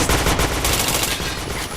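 Loud, rapid automatic gunfire in a shooter video game during a boss fight, a dense continuous burst lasting under two seconds with no talking.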